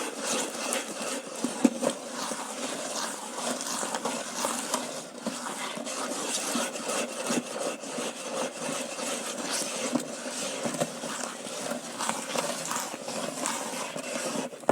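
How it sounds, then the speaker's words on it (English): Liquid soap being stirred with a little water in a container, giving a steady, continuous scraping and sloshing noise that holds at an even level throughout with no talk. "You continue mixing until there is no more noise. You hear this noise?"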